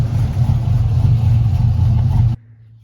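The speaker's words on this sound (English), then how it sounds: "Taking the jet ski trailer over to the shop to get the jet skis out of my way." A pickup truck towing a jet ski trailer, a steady low engine rumble heard from close by for about two seconds before it cuts off abruptly into quiet.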